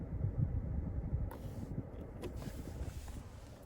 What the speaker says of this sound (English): And there's your push button start there.